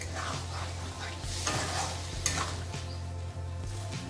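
Pointed gourd and paneer frying in a pan sizzle steadily as a little water is added, with a few soft stirring scrapes over the continuous hiss; no talking.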